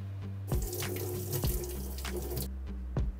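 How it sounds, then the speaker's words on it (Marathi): Vegetables such as tomato, capsicum, potato, beans, carrot, corn and coriander are rinsed under a running kitchen tap, the stream splashing loudly and shifting in tone as items pass through it, with a few knocks and no speech. "ज्या सगळ्या आता भाज्या घेतल्यात त्या एक एक करून धुवून घेतेय"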